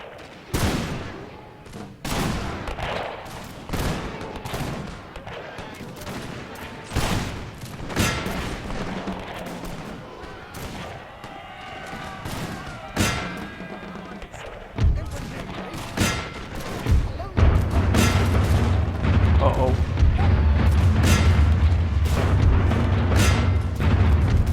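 Ragged musket volleys crash repeatedly across a Napoleonic battlefield in a Zulu-war setting at Rorke's Drift in Napoleon Total War, dense overlapping reports with booming echoes, building into a sustained roar of fire near the end.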